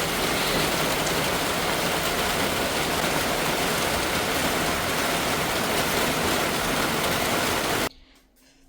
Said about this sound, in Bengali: মাছগুলো ধুয়ে যেতেছে বৃষ্টির পানিতে।